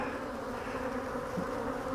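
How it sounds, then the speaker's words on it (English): Honeybees drone in a steady, close, continuous buzz around a beekeeper's head during a spring brood box inspection of a hive, with no voices over it. "Man, I've got bees all over my head"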